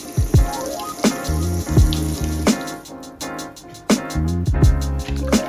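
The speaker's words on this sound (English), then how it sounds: "So we're just going to start filling the sink up." A kitchen sink fills with water from a running tap at a Scottish fishmonger's, ready for scaling sea bass. The steady rush of water comes with several sharp knocks and clunks nearby.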